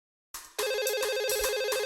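A business telephone rings after a moment of silence, its electronic trilling tone warbling rapidly and repeating in steady bursts, close and clear with no voices.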